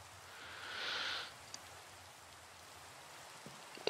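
Soft, steady rain hiss in modded Minecraft, with a brief brighter whoosh swelling and fading early on, then faint scattered ticks and clicks near the end, no talking.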